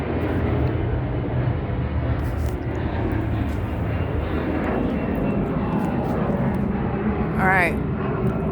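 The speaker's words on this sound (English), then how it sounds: "This is the third plane." An airplane drones overhead in the early morning, a loud, steady broadband rumble that lasts throughout, with a voice speaking over it.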